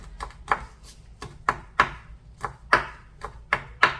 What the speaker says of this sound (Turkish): Beş altı dal maydanoz yıkadım önceden hazır ettiydim. Onları da ince ince kıyalım içine.